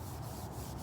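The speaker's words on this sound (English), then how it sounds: "So we got some metal polish and quadruple old steel wool. And we're going to knock down all the oxidation" Steel wool soaked in metal polish scrubbing oxidation off the metal of an RV, a steady, close, gritty rubbing with soft rhythmic strokes and no talk.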